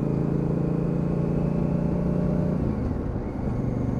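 A 2019 Honda CRF1000L Africa Twin with ABS pulls away under throttle, a loud, steady engine drone heard close from on board, with a brief shift in pitch near the end.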